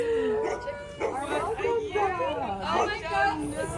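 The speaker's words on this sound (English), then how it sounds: "Wow, look at that dog." A dog barks and yips in excited, warbling bursts close by, mixed with a person's voice and general chatter underneath throughout.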